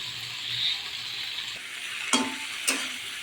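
Peas and vegetables frying in a pan with a steady close sizzle, broken by two quick utensil scrapes and clinks as the mixture is stirred.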